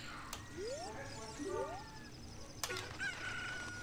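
A chicken from the Zelda: Ocarina of Time video game gives short rising clucks and squawks amid game sound effects and a few chimes, moderately loud, with no talking over it.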